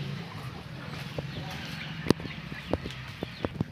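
A pet turkey kept at home clucks in short, sharp bursts scattered through the clip, fairly close, over a steady low background hum.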